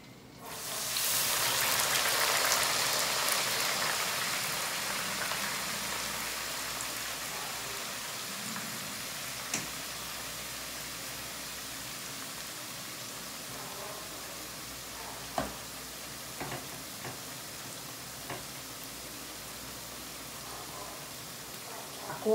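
Kale hitting a pan with golden fried onion gives a loud burst of sizzling that slowly settles into a steady, softer frying hiss, with a few small clicks near the end.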